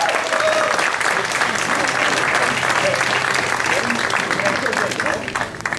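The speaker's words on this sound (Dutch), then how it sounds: "Geweldig applaus voor Maaike van der Duin." Crowd applause greets cyclist Maaike van der Duin at the Omloop der Kempen Ladies 2021 race, steady sustained clapping over a background murmur that fades slightly at the close.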